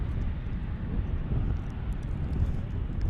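An Airbus A380 takes off from the 8,650-foot runway at SFO airport: a loud, steady, broadband jet roar heard from the ground, sustained and even with no talk over it.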